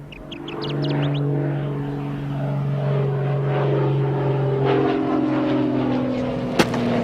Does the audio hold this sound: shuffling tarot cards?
no